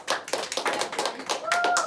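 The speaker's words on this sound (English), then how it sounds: "let's give John a round of applause" A small music class claps for a classmate, a quick patter of a few pairs of hands close by, with a voice and a brief tonal squeak near the end.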